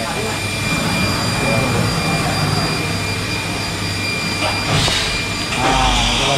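A CNC machine cuts racing motorcycle clutch parts in a workshop, giving off a loud, steady whine with tonal hums throughout, while a person talks over it near the end.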